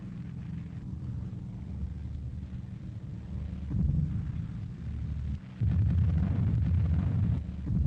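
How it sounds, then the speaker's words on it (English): Anti-aircraft shells bursting around B-17 bombers in WWII combat footage, heard as a low, muffled rumble under a constant roar of wind and engines, with two heavier booming swells toward the end and no speech. "Another bursting shell rocks the left-hand bomber into a near collision with the Memphis Belle."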